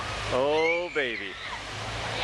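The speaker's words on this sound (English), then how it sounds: "This is one of the falls that they have right here." A river waterfall at Lava Hot Springs rushes as a steady, broad wash of water noise, with a voice speaking briefly over it.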